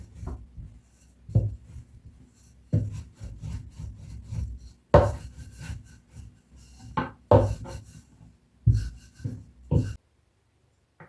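Homemade noodle dough is rolled out on a floured surface, giving repeated soft wooden rubbing strokes in uneven bursts, close and quiet, with no talk.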